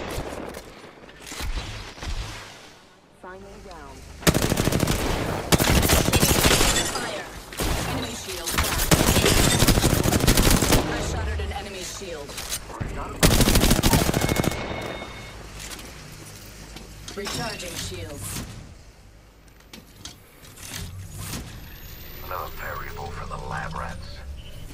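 Gunfire from the battle royale shooter Apex Legends comes in dense, loud bursts of rapid shots, separated by quieter stretches. Players talk in between the volleys.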